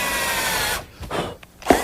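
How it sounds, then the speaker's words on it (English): Power drill pre-drilling holes in a wooden grill cart top, a close whir that stops abruptly, followed by a couple of short bumps and knocks. "Pre-drill some holes and attach it with some screws."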